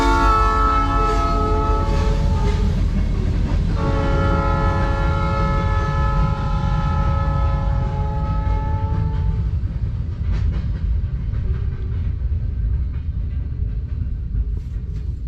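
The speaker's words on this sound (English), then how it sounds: "So now that the train is passed" A train rolls past close by, its horn sounding long sustained chords for about ten seconds over a steady heavy rumble and clatter of railcars that continues to the end.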